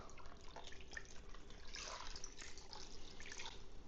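Beef broth poured into a crockpot for an old-school slow cooker recipe, a soft steady liquid pour with faint drips and splashes, fairly quiet and continuous with no talk.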